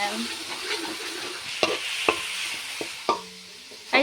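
Ginger, garlic and shallot paste being stirred into meat frying in a pan, a soft sizzle under several sharp scrapes and clinks of the spoon against the pan, close and clear.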